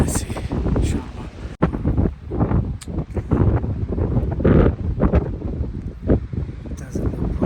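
Strong wind buffets the microphone in a New South Wales state forest, gusting in uneven roaring surges with rustling foliage and loud blasts that rise and fall over several seconds.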